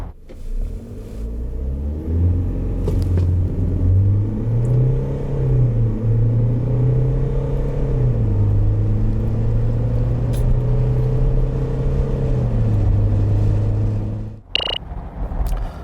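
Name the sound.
SsangYong Rexton SUV accelerating from standstill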